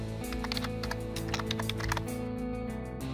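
Rapid keystrokes on a computer keyboard as a login is entered, a steady run of light clicks over a constant low electronic hum, fairly close with no voices.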